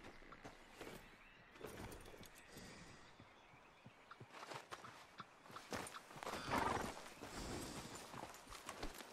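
Horse hooves clip-clop at a steady walking pace in Red Dead Redemption 2, close and moderately loud, with an occasional snort or whinny and faint jangling tack.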